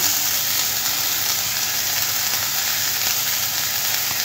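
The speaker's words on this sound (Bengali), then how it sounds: "এটা একটু নাড়াচাড়া করে একটু ভাজা ভাজা করে নেব।" Carrot, beans and capsicum with chilli sizzle steadily in a pan of hot oil, a loud, continuous close-up crackle with no one speaking.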